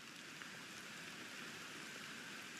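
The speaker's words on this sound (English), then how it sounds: "That rain is coming down. Sounds amazing on the trees." Steady rain pours onto trees in a video game, a dense, even hiss with no breaks, at a moderate level and with nothing else over it.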